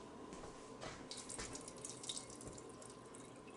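Liquid from canned whole kernel corn drains into a sink, a faint steady trickle with a few soft splashes, heard alone and at a distance.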